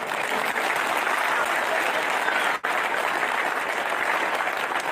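Sustained applause from a large crowd at an outdoor political rally in Ujjain, steady and dense clapping filling the whole stretch with only a momentary dip partway through.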